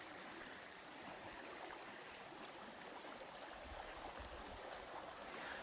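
River rapids at the bottom of Tibbets Falls roar as a continuous, even rush of water, steady and unbroken throughout, heard alone with no voices.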